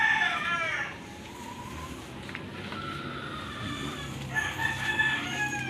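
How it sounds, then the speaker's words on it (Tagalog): Roosters crow at a short distance, one at the start and another near the end, with faint clucking and background noise between. "Maraming manok doon sa likuran namin."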